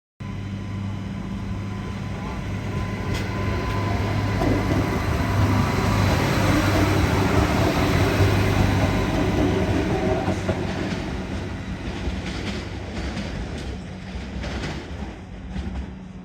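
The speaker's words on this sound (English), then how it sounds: "Freight trains rumble through the suburbs" Freight trains on an interstate standard gauge line rumble through Adelaide's suburbs, a long, steady, loud roll of wheels and engine that swells and holds for the whole stretch with faint clatter over the top.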